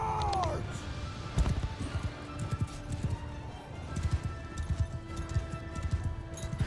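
Galloping cavalry horses charging in the Mount & Blade II: Bannerlord video game, a fast stream of hoofbeats at moderate distance with scattered clatter and a brief whinny early on.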